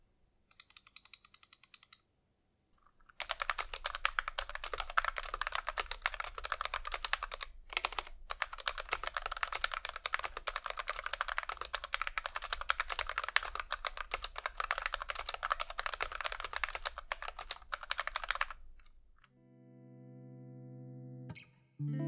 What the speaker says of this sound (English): let's take a listen to how this keyboard sounds right out of the box.